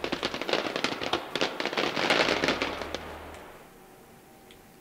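Firecracker thrown in the Generation Zero video game sets off a rapid, loud crackling string of pops that thins out and fades into quiet after a few seconds.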